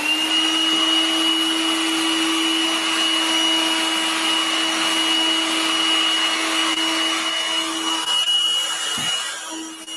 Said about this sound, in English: let's grab this and let's start vacuuming